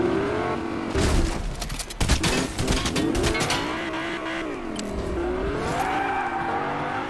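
A car engine revs and drones steadily through a Fortnite match, with rough mechanical grinding, bursts of clatter and what sounds like skidding tires, loud and continuous throughout without speech.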